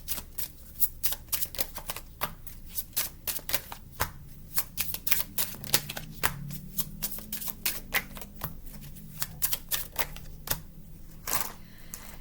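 A handmade oracle card deck is shuffled close up, giving a steady run of crisp riffling card snaps and flutters over about twelve seconds, with no talk.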